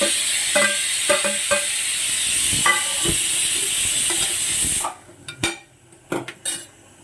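Paneer pieces sizzling in hot oil in a pan for a paneer cashew masala curry, with a spoon scraping and clinking against the pan in short strokes; the sizzle cuts off partway, leaving only scattered stirring knocks.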